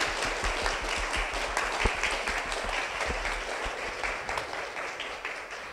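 Applause from a seminar audience at the close of a fashion knowledge talk in Seoul, a steady, moderately distant patter of clapping that holds evenly throughout with no talk over it.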